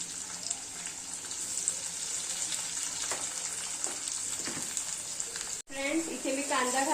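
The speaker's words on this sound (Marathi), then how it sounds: "आपलं तेल गरम झालेलं आहे आपण त्यामध्ये तेजपत्ती घातलेली आहे त्यानंतर मी आता इथे घालते बारीक चिरलेला कांदा" Finely chopped onion hitting hot oil with bay leaf in a pan for chicken biryani, a loud steady sizzle with a brief break, then a voice talks over the continuing frying.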